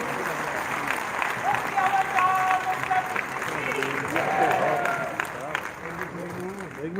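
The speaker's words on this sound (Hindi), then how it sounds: "तालियों के साथ अभिनंदन करें" Audience applause at a Lohri and Makar Sankranti gathering during a book launch, a steady crackle of clapping from a crowd sustained throughout, with murmured voices and brief whistle-like tones mixed in.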